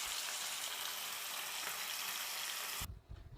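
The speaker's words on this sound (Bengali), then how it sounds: "মাছ ভাজা হচ্ছে।" Hilsa fish fry in a pan of hot oil, giving a constant close crackling sizzle that cuts off abruptly near the end, leaving only faint low rustles.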